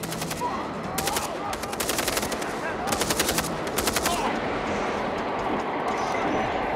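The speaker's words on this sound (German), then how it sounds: "Kopfschuss mit der letzten Kugel im Magazin" Sustained automatic gunfire in the video game Far Cry 3, rapid bursts of rattling shots over a dense battle din, loud and continuous throughout.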